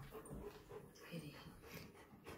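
A golden retriever whimpering and panting indoors, soft whiny cries and breathy pants repeating irregularly at low level, with a person speaking over it.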